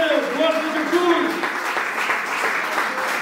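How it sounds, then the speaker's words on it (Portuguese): Congregation clapping during an evening church worship service, steady applause under a preacher's voice and other voices speaking over it throughout. "Quantos podem aplaudir o Senhor nesta noite?"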